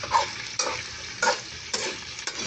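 Shrimp and eggplant sautéing in oil in a pan: steady close sizzle broken by several stirring scrapes at regular intervals, with no voices.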